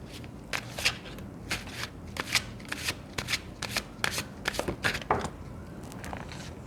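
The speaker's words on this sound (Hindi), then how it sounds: "जब तक मैं कार्ड शफल कर रही हूँ" Tarot cards shuffled by hand in a quick series of crisp riffling bursts, close up and continuous with brief pauses between, no speech.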